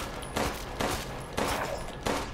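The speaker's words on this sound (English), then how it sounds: "I'm shooting a werewolf in the ass and then the head." Gunfire in Resident Evil Village aimed at a werewolf: four loud, evenly spaced shots roughly half a second apart, each a sharp broadband crack with a short tail over a steady game ambience.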